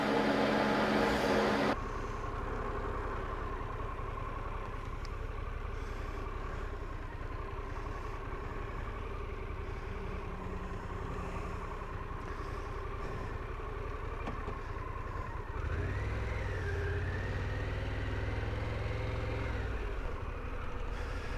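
A 2022 Harley-Davidson Pan America motorcycle running during a neighborhood ride, a low steady engine drone with a brief rise in revs near the end, fairly quiet and without talk.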